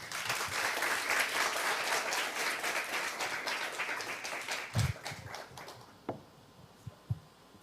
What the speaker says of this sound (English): please give him a big round of applause as he comes up to the stage